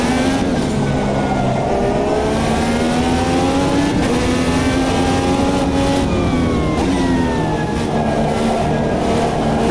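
Race car engine in Automobilista 2 during a flying lap, the car unfamiliar but the circuit well known, loud and continuous, revving up and down through the gears with a steady high-pitched drone and no talk.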